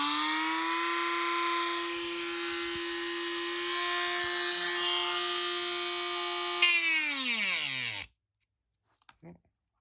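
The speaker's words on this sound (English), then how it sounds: "My Dremel just died." A Dremel rotary tool cutting into a globe gives a high, steady whine for about eight seconds, then spins down in pitch and stops, followed by faint clicks in near silence.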